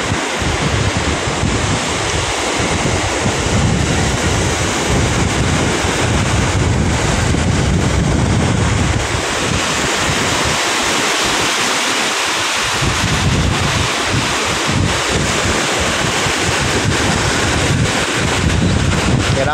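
Large sea waves pound the Manila Bay shore during a typhoon, a constant loud roar of surf mixed with heavy wind buffeting the microphone, surging and easing over about twenty seconds with no voices.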